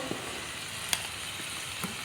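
Mutton frying with spices in a pot for an Assamese-style curry, giving a continuous even sizzle with a few faint taps of stirring.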